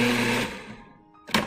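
A blender pulsing garlic for Puerto Rican sofrito: a loud motor whir that spins down, a pause, then a second short pulse.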